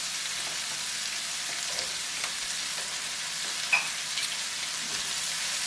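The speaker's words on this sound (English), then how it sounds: "I'm going to throw in the apples" Apples sizzling in a skillet with onions, a steady close frying hiss with a few faint stirring clicks and one small pop.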